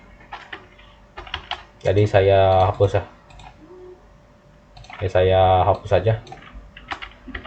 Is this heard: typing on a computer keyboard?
yes